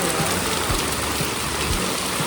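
Heavy rain pours down on a street in Tainan, a dense, even hiss of downpour with faint low thuds beneath, continuous for the whole short stretch.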